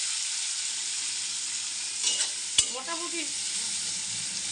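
Onions fry for a chicken curry with a steady hissing sizzle, broken midway by a sharp utensil knock and a brief spoken word.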